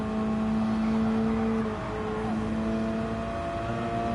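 A Subaru BRZ race car engine in a racing video game, a sustained steady droning whine at high revs with a slight dip in pitch midway, heard continuously and close, no talking.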